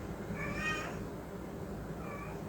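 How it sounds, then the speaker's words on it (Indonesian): A cat meows from behind a closed door, two drawn-out cries, the first louder and longer, the second fainter, over a steady room hum with no talking. "Jadi ku tutup aja pintunya, ngeong-ngeong dia."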